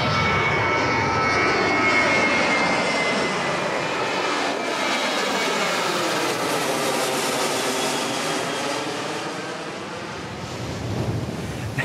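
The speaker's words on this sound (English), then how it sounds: "I can hear the sound of some of the planes' engines in the background" Airplane engines near Phuket Airport: a loud, sustained jet roar that slowly shifts in pitch as the aircraft passes, mixed with wind and ocean surf, no speech.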